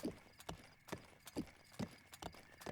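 Horse hooves clip-clopping over open terrain in the video game Breath of the Wild, a steady rhythmic series of sharp close hoof strikes at a walking gait, fairly faint, with no talk.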